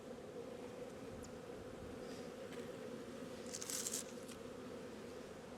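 Honey bees from an opened hive buzz in a steady, dense drone close by, with brief faint handling clicks partway through and no talking.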